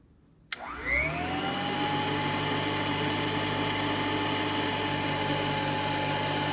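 A late-1970s Royal 880 metal upright vacuum cleaner switches on with a sharp click, then spins up into a loud, steady motor whine and hum that holds evenly, close by, with no talking.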